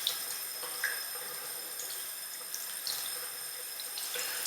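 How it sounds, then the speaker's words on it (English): Cold water runs steadily from a sink tap, a faint, even hiss of flowing water with a few small splashes and no talk. "just make sure you're washing this with cold water just underneath the sink"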